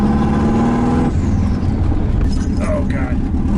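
An LS-swapped Mazda Miata idling loudly up close, a deep steady engine rumble with a shifting tone partway through, and a person talking over it.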